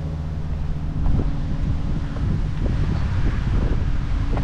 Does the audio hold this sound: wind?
yes